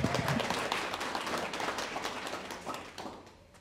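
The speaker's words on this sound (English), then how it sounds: "How about a round of applause for Dan Martin" Audience applause at a hall of fame ceremony, a dense wash of many hands clapping in a hall that slowly fades, moderately distant with no talk.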